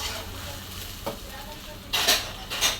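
Ivy gourd (tondli) pieces stirred in a pan over a steady low sizzle, with a few soft spatula scrapes and two louder bursts of stirring near the end.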